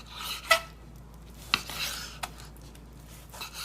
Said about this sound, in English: So now we're just cutting some slices